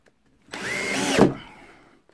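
An Einhell PXC TE-CD 18/40 Li-Solo 18V cordless drill drives a screw in one close, loud burst of about a second, its motor whine rising in pitch before stopping abruptly.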